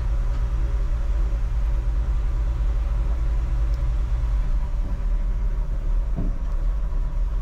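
A 1964 Ford F100 truck with manual steering being driven around a parking lot, its engine giving a steady low rumble with constant drone throughout and a faint clunk near the end, no talking.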